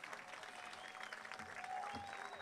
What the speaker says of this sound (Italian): Ringraziamoli ancora con un bel applauso,